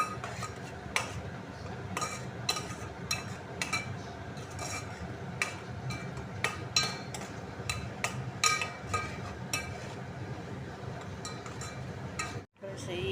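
Prawns and colocasia with chilli powder being stirred in a pan of oil and onions, a steady run of scraping and clinking spoon-on-pan strokes with a low background hum, no voices, with a brief drop near the end.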